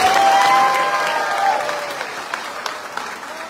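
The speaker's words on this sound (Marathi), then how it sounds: "धनुभाऊ बरोबर आहेत तर एकदा टाळ्या वाजून हो म्हणा." Applause from a large audience at a state-level community convention and discussion assembly, steady dense clapping filling the room and slowly tapering, with a voice speaking faintly underneath.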